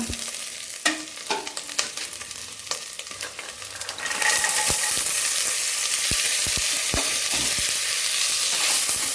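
Green peas tipped into pulao frying in a pan, with stirring scrapes and clatter that give way to a loud, steady sizzle that continues to the end.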